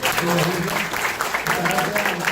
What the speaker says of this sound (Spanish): vamos a despedirle con un caluroso aplauso.